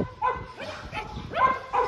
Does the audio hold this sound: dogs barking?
yes